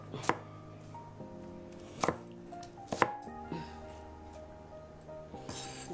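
A knife works through an onion on a cutting board in a home kitchen, with a few sharp, separate chops and light clinks over a quiet background hum.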